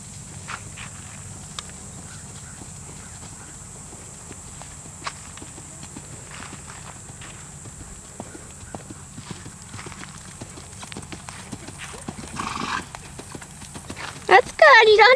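A horse under a rider in a riding lesson, hooves striking the ground in a steady clip-clop that grows louder near the end, with an instructor's voice talking over it.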